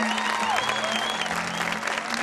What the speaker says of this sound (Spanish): Están aplaudiendo muy seriamente